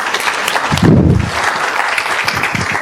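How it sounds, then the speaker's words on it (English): Brief applause from an audience at a campus leadership talk, a steady patter of clapping with a low thump partway through. "Give her a round of applause."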